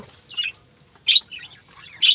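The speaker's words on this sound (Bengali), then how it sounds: "এই যে আমাদের কলোনির পাখিগুলো" Breeding pet birds in an aviary colony give three bursts of bright, high chirping calls spaced about a second apart, with quiet gaps between, nearby and without speech.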